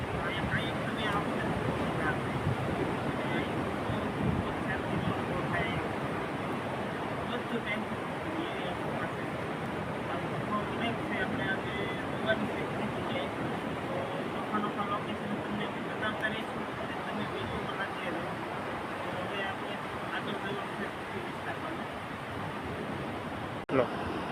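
Sea waves rolling onto the wide shore at Methala, a steady broadband wash with wind buffeting the microphone, heard continuously under people talking.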